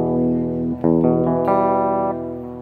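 An electric guitar runs through a clean setting of browser-based JavaScript effects, and a few sustained, bright chords ring out clearly and alone, with no distortion.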